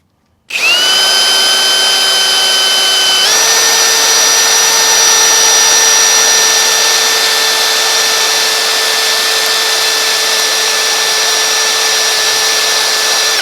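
A power drill fitted with a Matco Cobalt HyperStep step bit bores into metal with a loud, sustained, whining tone. The pitch steps up once early on and then holds steady for over ten seconds.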